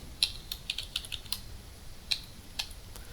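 Fingers type on a computer keyboard in a quiet room, a sparse run of crisp individual key clicks with uneven gaps between them, close and clear.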